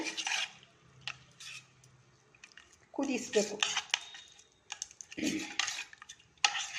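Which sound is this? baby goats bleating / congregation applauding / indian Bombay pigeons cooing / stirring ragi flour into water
stirring ragi flour into water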